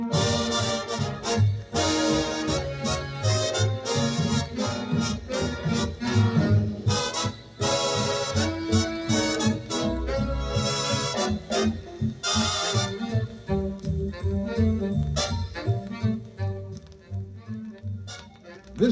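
A big-band swing tune in a stereo re-recording, a loud, full big band with punchy brass, bass and drums playing a swinging passage continuously.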